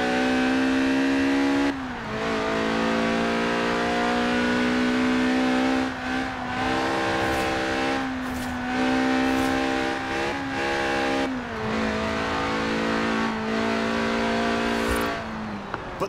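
Steady mid-engine roar of a Lotus Elise Sport 190 track-day roadster in Forza Horizon 4, held at high revs with brief dips and shifts between sustained pulls, loud and close with no talk.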